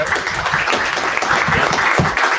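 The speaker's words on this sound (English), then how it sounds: "So a spontaneous applause for Ana." Spontaneous applause from an audience at a datathon event, steady and dense clapping at moderate level throughout, with faint voices mixed in.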